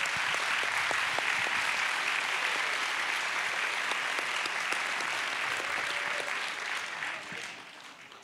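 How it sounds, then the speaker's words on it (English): At a school Christmas concert, the audience gives a loud, full round of applause that stays strong for most of its length before thinning and fading toward the end. "Give them another round of applause."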